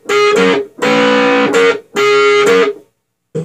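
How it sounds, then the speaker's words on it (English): Electric guitar with a wah-wah pedal parked in its back position plays brass-like horn licks: three sustained, distorted phrases in a steady rhythm, then a brief final note. The guitar is loud, close and alone. "First, we put the wah-wah all the way to its back position,"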